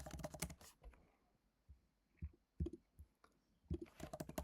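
Someone types an email on a computer keyboard in irregular bursts of crisp, close key clicks, with short pauses between clusters. The clicks are quiet overall and no one speaks.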